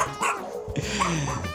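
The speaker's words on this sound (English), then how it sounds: "From the biggest to the smallest, guard dogs." Small and large guard dogs yipping and barking in quick, close bursts, with whimpering, excited calls running steadily through the short stretch.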